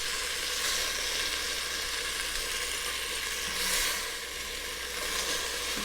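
Beef sears in a hot pan with a loud, continuous sizzle and crackle close up, steady throughout, with no talking.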